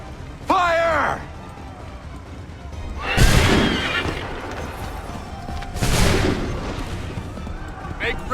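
Musket volleys ring out in the Assassin's Creed III video game: a horse whinnies early on, then two loud booming volleys a few seconds apart echo over a rumbling battlefield background.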